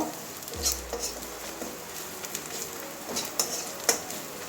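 Spice masala with coriander powder and Kashmiri red chilli powder stir-fried in a pan for a taro stolon curry, with soft scraping and light sizzling plus a few sharper clinks of a spoon against the pan.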